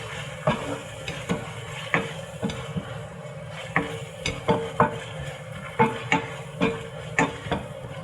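Ginataang gulay vegetables are stirred in coconut milk in a pot. A spoon scrapes and clacks against the pot in a run of repeated strokes over a soft background simmer, and there is no talk.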